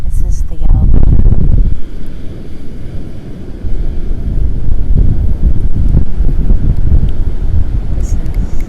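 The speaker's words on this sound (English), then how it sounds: "It's windy." Gusty wind buffets the microphone on a beach, a loud, rough rumble that swells and eases throughout while someone talks over it.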